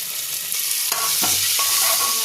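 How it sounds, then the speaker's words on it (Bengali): Crushed garlic frying with chicken in a pan gives a steady close sizzle with light stirring scrapes and no talking. "চিকেনটা ফ্রাই হয়ে গেছে, এবার থেতো করে রাখা রসুনটা আমি এর মধ্যে দিয়ে দিই।"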